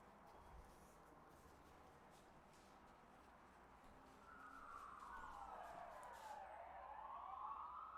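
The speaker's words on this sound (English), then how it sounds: "I'm sorry for the noise, but that's a ambulance outside." A distant ambulance siren wails and rises in the background, growing louder halfway through over a steady low rumble.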